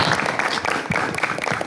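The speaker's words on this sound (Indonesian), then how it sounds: "Oke, tepuk tangan semua." Applause from an audience at an evening event at an Islamic boarding school camp, welcoming the night's speakers; dense, steady clapping fills the whole stretch at close range with a slight swell near the middle.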